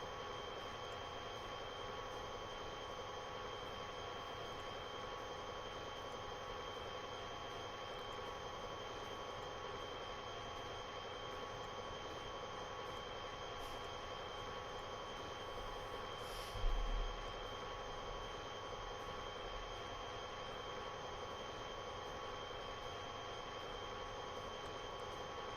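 A train rumbles past steadily, with a sustained tonal drone and broad rolling noise that hardly changes over a long stretch, and a brief low thump midway.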